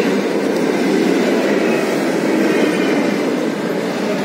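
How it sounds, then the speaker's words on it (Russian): A subway train rumbles steadily through a metro station with a constant broad roar, loud and close, no voices heard. "Метро."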